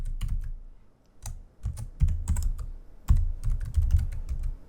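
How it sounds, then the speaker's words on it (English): Typing on a computer keyboard while writing code, with quick bursts of close, crisp key clacks separated by short pauses. "we're going to type out browser"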